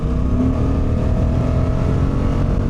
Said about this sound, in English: you can see the bike dropped 2 gears, got down into 4th, and then pulled away